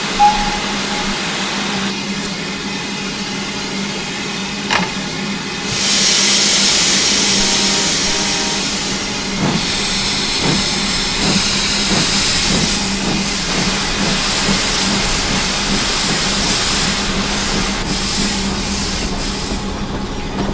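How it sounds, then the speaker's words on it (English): A model steam locomotive with a seven-coach train gives off a steady rush of hiss and mechanical rumble, with a bright burst of steam mid-way and faint rhythmic clicking, continuous and close throughout. "Sound the whistle."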